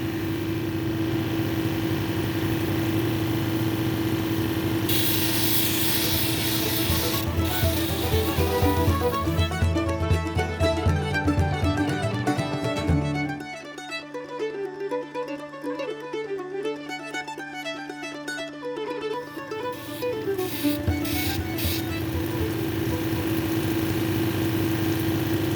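Lapis lazuli cabochon ground on a 280 grit wheel, with a steady motor hum and whirring wheel running throughout, shifting tones and faint scraping as the stone is worked, close and continuous with no talk.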